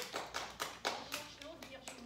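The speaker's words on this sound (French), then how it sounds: "Bravo, on applaudit s'il vous plaît, plus fort." A class of children claps in a handful of sparse, uneven bursts, faint and roomy rather than a full ovation, each clap fading quickly.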